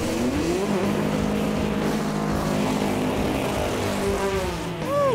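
Drag race cars accelerate hard down the strip, one pulling to the side in the far lane, their engines a loud, continuous roar with rising and falling whines and no talk over it.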